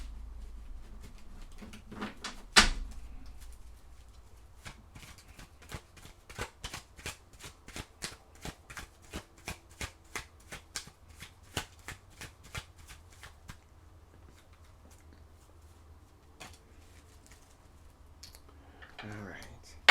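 Oracle cards being shuffled by hand, a long run of quick, crisp riffling clicks and flutters at close range, with a sharp knock near the start and a soft rustle at the end.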